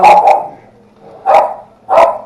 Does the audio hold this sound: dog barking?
yes